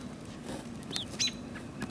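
Hungry baby birds give a few thin, high chirps, brief and fairly faint, over a steady low background hum with no talking.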